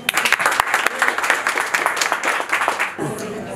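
Applause from an audience at a networking meetup in Blue Island, Chicago, a dense burst of clapping that fades out near the end with a few voices.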